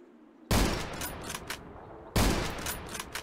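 Two loud gunshot bursts in the pixel-art shooter game Zero Sievert, about a second and a half apart, each cracking sharply then trailing off into an echoing rumble.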